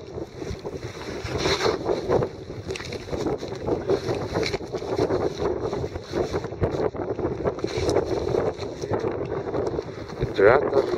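North wind blowing outdoors on a cool morning by the water, a steady loud gusting rush buffeting the microphone throughout, with faint splashing beneath.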